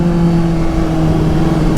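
Honda CBR 600RR supersport motorcycle on a test ride, a loud steady engine hum with a constant droning pitch, close and continuous.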